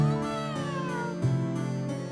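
A cat meows in a long, drawn-out, wavering call, close and clear, with a steady tonal background running underneath.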